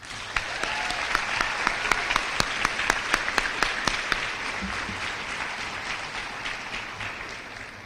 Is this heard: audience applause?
yes